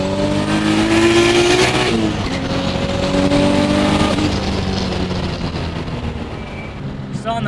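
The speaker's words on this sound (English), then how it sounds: "there's a 4-inch dump straight from the turbo. It gets pretty loud under that passenger seat" A turbocharged BMW E36 M3 with a 4-inch dump pipe straight off the turbo, heard from inside the car: loud, raw engine roar climbing in pitch, a shift break, then a steady hard pull, with voices faintly underneath.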